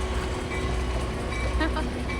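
A train near Snoqualmie Falls gives a steady, close rail rumble with a faint rhythmic clatter, loud and unbroken for the whole moment.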